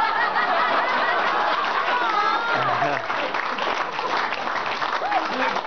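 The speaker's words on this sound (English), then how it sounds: "Ladies and gents, a round of applause," Wedding guests applaud in a sustained burst of clapping, with scattered chuckles and murmurs mixed in throughout. A voice speaks over the clapping near the middle.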